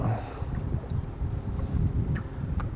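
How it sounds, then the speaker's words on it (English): Wind gusts buffet the microphone on a small fishing boat drifting with the current, a close, rumbling low roar with faint splashes of water. "I'm being moved around by the wind and the current."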